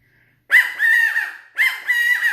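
Two loud, close squawking phrases from a blown valley/Gambel's quail stick call follow each other quickly, the second cut short, with no voices over them.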